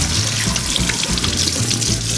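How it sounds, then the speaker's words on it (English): Tap water runs steadily into a sink while a tilapia fish is rinsed clean after gill removal, a continuous close splashing hiss with no talk. "So now we are going to just rinse off."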